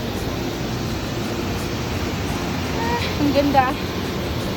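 Steady rushing of a waterfall fills the scene on a hike, a broad continuous wash of falling water with brief voices speaking over it near the end.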